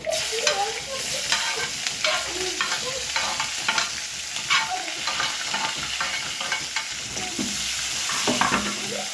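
Onion and garlic fry in hot oil for a fish curry, giving a steady sizzle broken by scraping stirs and crackling pops, close and fairly loud.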